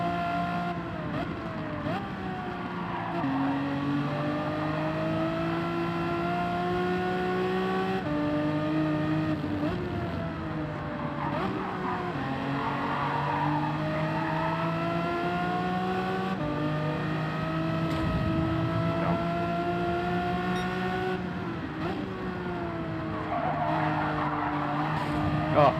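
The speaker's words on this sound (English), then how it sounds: "Waka in the Lamborghini." Lamborghini racing in Gran Turismo 7, its engine tone rising and falling through gear changes while tires skid and squeal, loud and continuous for the whole stretch.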